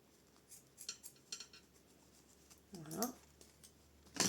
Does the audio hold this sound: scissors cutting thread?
yes